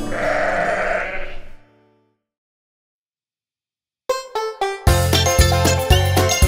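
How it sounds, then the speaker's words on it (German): A single sheep bleats loudly and alone for about a second and a half, then there is silence, and a bright children's-song melody starts. "Mäh, mäh, schwarzes Schaf, hast du Wolle da?"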